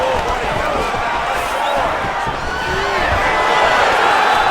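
An arena crowd cheers in the UFC 5 video game as fighters scramble back to their feet, a dense, loud, continuous roar with scattered shouts and voices mixed through it.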